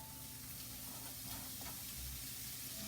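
Prosciutto frying in a saute pan for amatriciana pasta, a steady close sizzle and crackle that runs unbroken throughout, with no talking.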